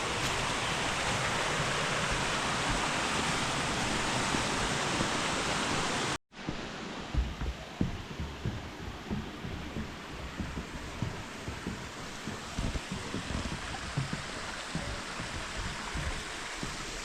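Steady rushing water noise of Carrot Creek near Table Rock State Park, South Carolina, loud and continuous, broken by a brief gap, then a slightly gentler, splashier flow.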